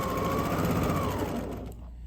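Sewing machine stitching through layers of fabric for a kitchen craft, a fast rapid needle chatter running loud and close before slowing and stopping near the end.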